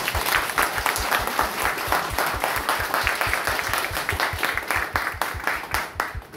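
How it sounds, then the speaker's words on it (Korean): Audience applause after a guest is introduced at a Korean talk event on prosecution reform, with steady dense clapping from a room of people throughout, loud and close, no voices over it. "박수 한번 부탁드립니다."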